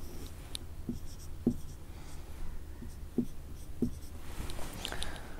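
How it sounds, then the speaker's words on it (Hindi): Writing out a math problem by hand: a soft, continuous scratch of pen or marker on a surface, close and quiet, punctuated by a few light taps as strokes begin and end. "क्वेश्चन आपके सामने है, इसको एक बार फिर से लिख लेता हूँ।"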